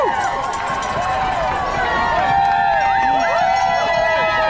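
Spectators lining the London Marathon course shout and cheer in a continuous roar while runners pass, with voices rising over the steady crowd noise throughout.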